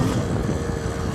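A dirt bike riding in second gear, with a steady, moderately loud engine rumble and wind noise running continuously through the short stretch.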